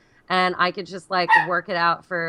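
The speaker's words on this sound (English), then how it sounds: "that is my dog." A miniature schnauzer gives a quick run of close, sharp barks and yips, blended with a person talking nearby.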